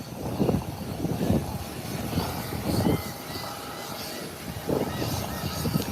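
A steady, rumbling engine of a plane arriving from Charlotte at Howard Hamilton International Airport drones nearby with wind-like noise, swelling and easing in low pulses, while people talk indistinctly underneath.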